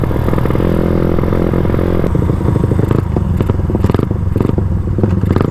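A Suzuki Raider 150 motorcycle engine revs loudly nearby, a rough, rattling drone that shifts pitch as the throttle changes, with some clattering, after a missed gear shift.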